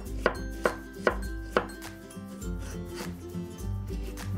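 A knife slicing onion on a board during prep for beef chow fun: four sharp, evenly spaced cutting taps in the first half, then softer rubbing and scraping, close and clear with no voice.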